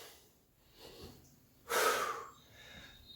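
Hard breathing during push-ups: soft inhales and exhales, then one sharp forceful exhale burst, close and fairly quiet, with no talking.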